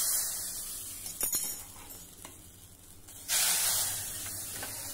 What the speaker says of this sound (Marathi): छान लाल तर्री असलेली ही फोडणी आता कढीवर घालायची आहे